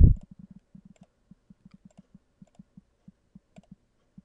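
Computer mouse clicks, a steady series of about twenty short, close, crisp taps spaced irregularly, after one louder opening click, with no talking.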